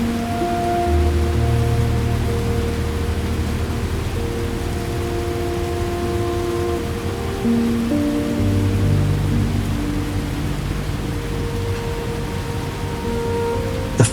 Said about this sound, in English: The rain is on the window.